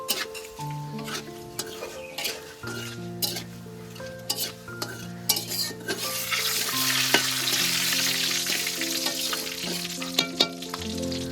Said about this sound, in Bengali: দেখো ছোলা ভিজিয়ে রেখেছিলাম, ভিজে গেছে সুন্দর। এটা তেলের উপরে ভেজে নেব